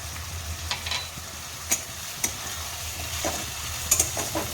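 Turmeric and spices frying in a pan for an eel fish curry, with a steady low sizzle broken by a few sharp scraping stir strokes at irregular intervals, close and alone without talk.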